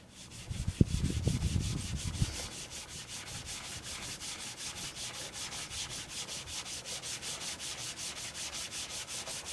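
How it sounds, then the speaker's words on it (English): A person handles the gear with a few loud knocks, then a synthetic sharpening stone is lapped on a well-used sheet of sandpaper. The strokes form an even, rhythmic scraping, about four per second, close and steady with no voices. "this poor sheet of sandpaper is really giving its all for the cause"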